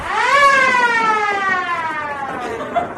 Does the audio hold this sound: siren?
yes